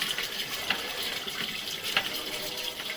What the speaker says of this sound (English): I flushed the toilet. You're going to hear it, and you'll see a rush of water in a second.